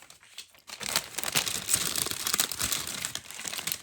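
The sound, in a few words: crinkling plastic packaging of a gift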